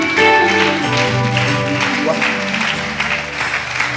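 A church congregation acclaims the Lord with clapping and cheering voices, a loud, broad wash of applause mixed with sung or shouted voices and sustained tones throughout.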